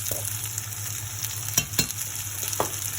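Coriander and cumin powder fry gently in a pan, giving a soft continuous sizzle over a low hum, with a few scraping stirs of a spoon toward the middle and end.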